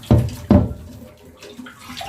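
Cold tap water gushing in two short, loud bursts near the start, then fading to a softer trickle and splash while rinsing an indoor plant.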